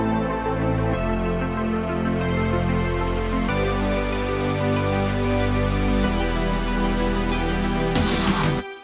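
An electronic music build-up plays alone, loud and continuous: layered synth chords and a bright synth lead step through changing notes, ending with a rising noisy sweep before cutting off.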